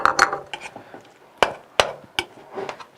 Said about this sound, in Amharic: ሁለት ማንኪያ አድርጌያለሁ በደንብ አድርጌ ላዋህደው